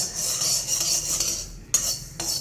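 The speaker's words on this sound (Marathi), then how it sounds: "गॅस बंद करून गरम कढईमध्ये फक्त हलकंसं मोहरी भाजून घेऊया." Mustard seeds being stirred in a hot kadhai with the gas turned off: continuous metallic scraping of a spoon against the pan with a faint crackle, punctuated by a couple of sharp clinks near the end.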